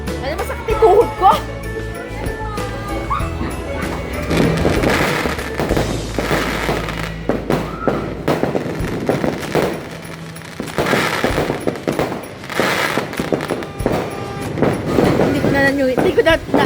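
Rapid bursts of New Year firecrackers crackling and popping in a street celebration, dense strings of loud bangs that rise and fall, with people talking and calling out nearby.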